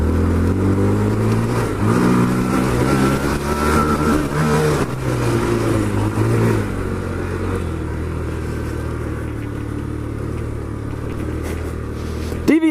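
Honda Grom motorcycle engine revved hard and held against the rev limiter, giving a loud, close, sustained buzzing drone that wavers in pitch before easing off toward the end.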